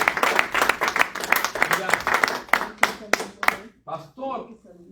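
A church congregation claps for Christ during a sermon, a series of sharp uneven claps in bursts, followed by a brief voice as the clapping stops.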